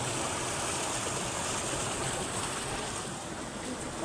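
A small river in the Nepali hills flows with a steady, even rush of water, close and continuous without a break.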